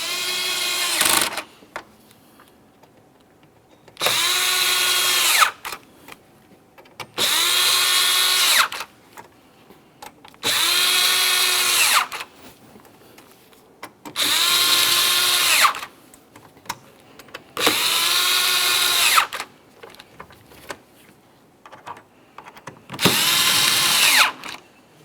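A power drill drives the fog light bezel mounting hardware on a 2017-2024 GMC Acadia, sounding in seven loud, even bursts of about two seconds each, separated by short quiet gaps.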